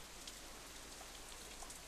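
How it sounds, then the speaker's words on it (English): Steady rain falls in a visual novel scene, a dense, even patter of drops on surfaces filling the whole moment without pause, with no voices over it. "Instead, the rain seems to increase."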